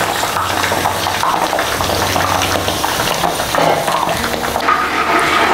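Chicken lollipop Manchurian pieces fry in hot oil with a dense, continuous sizzle and crackling splatter close by, steady throughout with no talking.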